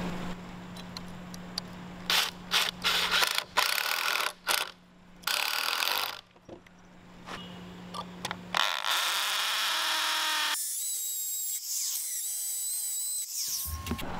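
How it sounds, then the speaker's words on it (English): A power driver drives Tapcon star drive screws into concrete footings, giving repeated short whirring bursts with pauses between them, then a longer high-pitched mechanical whine, close up with no talk. "I'm using Tapcon screws with the star drive to anchor into the concrete."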